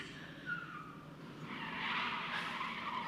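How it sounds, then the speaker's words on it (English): A car tire squeals in a drawn-out, rising screech against a noisy background at the Crufts 2024 dog show, growing louder toward the end. "That was a car tire."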